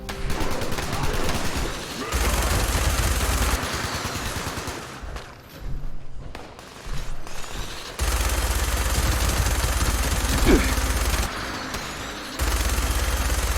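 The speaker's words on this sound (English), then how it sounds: "Gunshots from the north." Gunfire in Fallout 76, long sustained bursts of automatic fire heard from a distance to the north, with brief pauses and some rumbling, continuing through most of the stretch with no talk.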